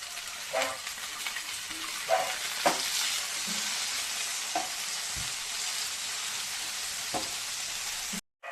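Tomatoes go into a pan of frying okra, which sizzles continuously with a bright hiss while a utensil scrapes and stirs in several distinct strokes, ending with a brief cut to silence.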